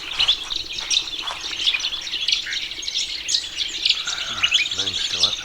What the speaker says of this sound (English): we can hear the birds are really having a hell of a time singing